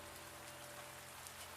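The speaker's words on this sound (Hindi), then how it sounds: "आसमान से पानी के साथ साथ बड़े बड़े पत्थरों जैसे ओले गिरने लगे" Rain with large hailstones pours down in a cartoon storm, a dense, steady hiss of falling drops with no voices.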